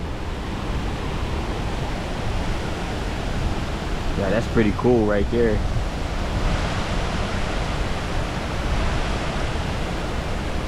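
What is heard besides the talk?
White River flowing below waterfalls in Indianapolis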